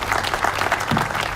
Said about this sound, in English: can we give a round of applause for the entire Paramount and ACCA's team and the board of directors of ACCA and everyone